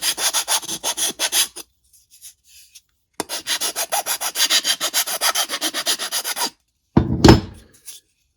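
A file rasps back and forth on a part of a DC-17m blaster replica in quick, regular strokes. Two runs of strokes are split by a near-silent pause, and a sharper, louder scrape comes near the end.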